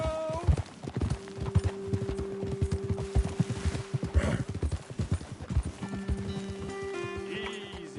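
Horses in the Red Dead Redemption 2 video game clip-clop in a steady, fairly close rhythm of hoof falls, with a brief whinny and a few background tones over game music.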